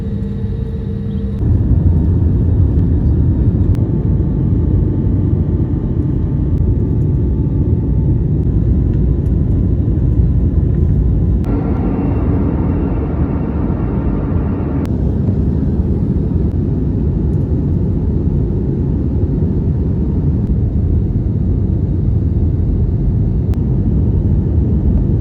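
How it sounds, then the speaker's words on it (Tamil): A passenger airplane takes off, heard from inside the cabin as a loud, steady low engine roar and rumble that builds and then holds, with shifts in tone as it climbs. "ஏறிட்டோம். Time to take off."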